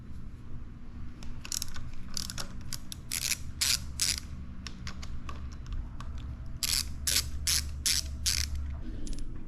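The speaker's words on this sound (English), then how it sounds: "These are 8mm sockets, so go ahead and get your 8mm and remove these." A ratchet driving an 8mm socket to take off the levers on a Benelli 135 TNT motorcycle, with repeated bursts of rapid clicking over a steady background hum.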